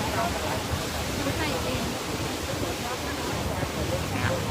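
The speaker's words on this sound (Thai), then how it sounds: "น้ำไหลครับน้ำหลากนะครับ" Steady, dense rush of floodwater at a levee under repair, loud and continuous with no pauses, pouring past close by.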